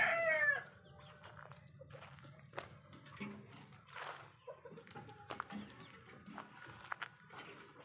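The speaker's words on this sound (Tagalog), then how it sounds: "Yan ang munting manukan ko." Chickens and roosters in a small backyard coop cluck and call continuously, with a louder cry right at the start and scattered nearby clucks and rustling throughout; no one speaks.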